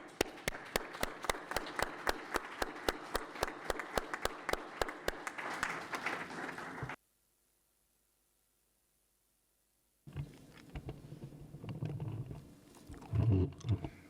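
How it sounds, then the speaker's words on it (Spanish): Audience applause welcoming a speaker at a lecture event; crisp, regularly spaced claps for about seven seconds, then an abrupt silence before faint room noise and shuffling return. "podemos darle la bienvenida pues con un aplauso"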